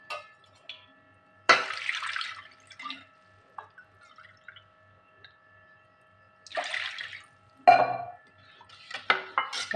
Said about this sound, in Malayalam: രണ്ട് ഗ്ലാസ് വെള്ളം ഒഴിച്ചു. ഒന്നുകൂടെ ഇളക്കി.